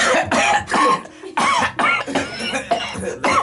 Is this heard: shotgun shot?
no